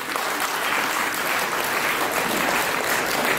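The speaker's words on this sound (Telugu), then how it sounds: "మీ అందరి హర్షధ్వానాల మధ్య" An audience at a community felicitation gathering applauds loudly, a dense and continuous wash of many hands clapping close by for the whole stretch.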